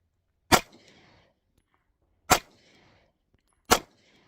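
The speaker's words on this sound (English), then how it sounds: "We're going to go ahead and put a couple rounds on target." Three sharp, loud pistol shots from a Smith & Wesson Shield Plus fired at a target, spaced a second or two apart, each a crisp crack with a short echo, alone without talk.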